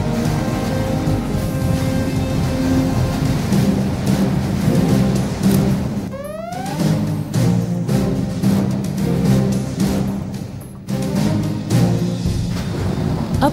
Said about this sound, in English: Scud Storm launched.